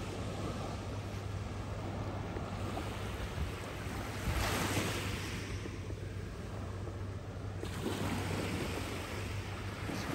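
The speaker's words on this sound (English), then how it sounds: "Our first look at the beach." Surf washing onto the beach at North Naples, Florida at high tide, a steady soft roar of waves with a swell midway, mixed with light wind noise on the microphone and no voices.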